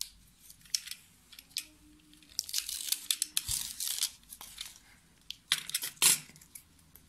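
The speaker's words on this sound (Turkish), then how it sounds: "Bunun üzerine bir kat daha bant çekeceğiz." Adhesive tape is pulled off the roll and wrapped around a tube while building a simple model telescope. Close, irregular crackles, rips and rustles come in bursts, without talk.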